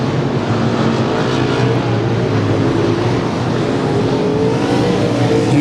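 Dense, steady roar of several race cars circling the oval at Willamette Speedway, a continuous loud engine drone with no pauses and no voices.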